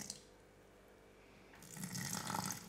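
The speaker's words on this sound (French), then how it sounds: "je vais arroser maintenant" Watering plants inside a hanging terrarium: after a quiet stretch, a soft splash of poured water starts and grows into a gentle, close trickle and patter on soil and leaves.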